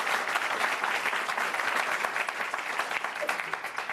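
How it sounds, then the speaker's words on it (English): Audience at a town hall meeting applauds Dr. Eugene, a dense, steady wash of many hands clapping from a crowd that holds even for the whole stretch with no speech over it. "Let's please give Dr. Eugene a big round of applause."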